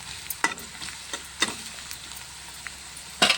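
Onions with a spoonful of salt sizzle in a pan as a spoon stirs them, giving a steady frying hiss punctuated by several sharp scraping clinks against the pan.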